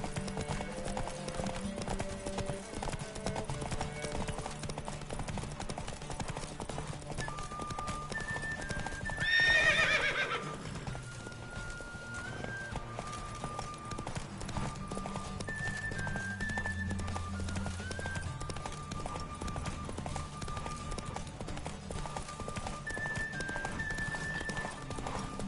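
A horse gallops with steady clip-clop hoofbeats throughout and lets out a clear neigh about midway, set in The Witcher 3's open world under a constant ambient game bed.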